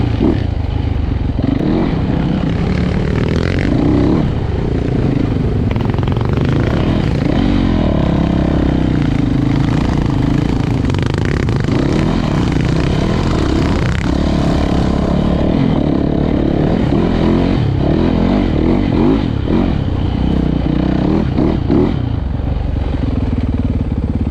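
A Yamaha motorcycle engine drones loudly and continuously while riding through a forest, with wind rush and rattling, the pitch rising and falling as it accelerates.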